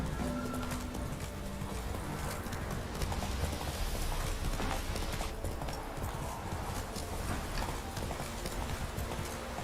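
Roach, a horse in The Witcher 3, gallops in a steady rapid clip-clop of hooves that runs throughout, close and fairly loud over a busy ambient game background.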